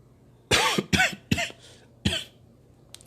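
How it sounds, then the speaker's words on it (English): A person coughs four times in quick, harsh bursts, close to the microphone with brief pauses between, and there is no talk around the coughs. "Excuse my coughing."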